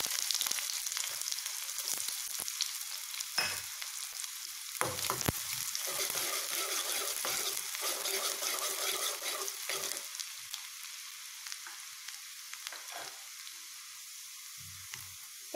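Onions fry in ghee in a kadai with a bright, continuous sizzle, broken by clattering strokes of stirring and sharper crackles, loud and close throughout.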